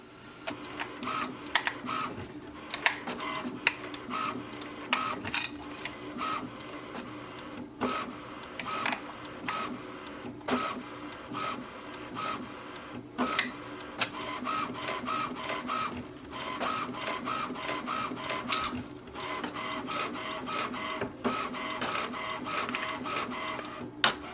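An HP Envy 6552e printer prints an alignment page, its print head whirring and clicking in a rhythmic back-and-forth pattern at close range.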